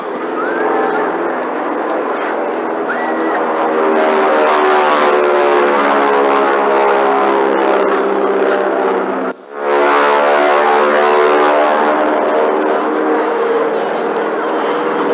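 An aerobatic propeller airplane pulls up into a loop at an airshow, a loud sustained buzzing engine drone that holds steady, briefly cuts out partway through, then returns.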